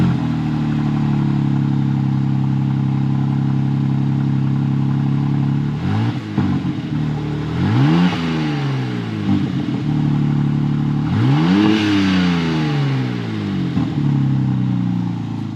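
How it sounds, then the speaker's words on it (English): Loud revving from a BMW car engine (G42 M240i or G87 M2), a steady deep idle that swells into several sharp throttle blips with rising and falling pitch, close and dominant, no talking. "Loud ass car."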